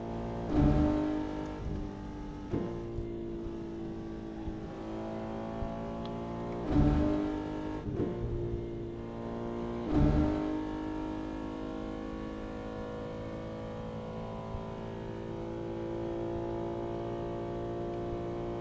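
A Lamborghini race car engine in the Assetto Corsa racing game drones at a steady, fairly quiet level, broken by a few sharp surges that sound like gear shifts or throttle blips, with no voices.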